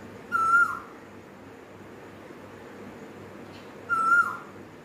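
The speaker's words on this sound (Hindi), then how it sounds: "बैकग्राउंड पे आपको परिंदों की आवाज़ें आ रही हैं। एक परिंदे की आवाज़ आपको आ रही है" A bird gives two short, clear whistled calls a few seconds apart, faint and distant over a low, steady background hum.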